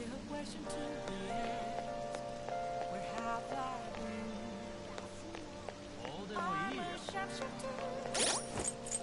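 Soft, steady rain patters quietly in the video game Persona 5 Royal beneath a gentle musical background, with faint scattered clicks.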